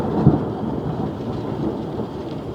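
Thunder rumbles through a summer storm beside a narrowboat, a deep rolling boom with a sharp crack near the start, then a sustained low roar mixed with steady rain.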